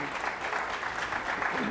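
Debate audience applauding, a dense, steady wash of clapping heard at a moderate distance with no breaks.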